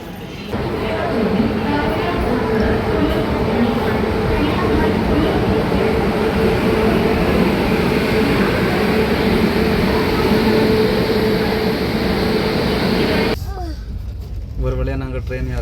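Steady low rumble of a moving long-distance passenger train carriage in India with constant mechanical hum and rattle, voices murmuring faintly underneath, ending with a quieter interior tone.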